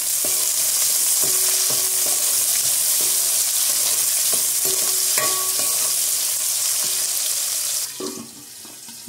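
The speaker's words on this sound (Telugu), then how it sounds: "లవంగాయలు ఒక అర డజను, 3 యాలకులు, ఒక 4 లవంగాయలు ఇవన్నీ వేసుకొని ఫ్రై చేసుకోవాలి." Cloves and cardamom frying with sliced onions in hot oil for chicken donne biryani, a loud, steady close sizzle broken by repeated scraping stirs of a spatula, with no talk.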